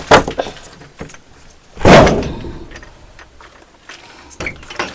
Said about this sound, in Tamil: நம்ம வெடிச்சு வரதுக்குங்க கொஞ்சம் கதவை திறக்கலாங்க.